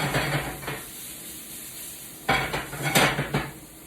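A utensil stirs garlic and onions around a metal pan, giving clattering scrapes in two bursts, one at the start and a louder one toward the end, over a faint sizzle, with no voices.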